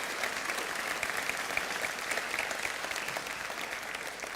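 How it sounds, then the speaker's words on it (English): Conference audience applauding the Blender team during a keynote, a steady wash of many hands clapping filling a large hall, sustained and moderately loud with no voices over it. "give them an applause"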